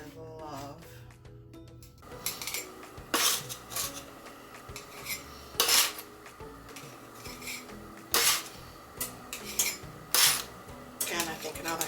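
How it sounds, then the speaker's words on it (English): A metal cookie spatula scrapes and clinks against a baking sheet as freshly baked chocolate chip cookies are lifted onto cooling racks, sharp intermittent scrapes and taps at irregular intervals, close by, with no talking. "now I'm gonna transfer these to the racks here. And this little cookie spatula that I love."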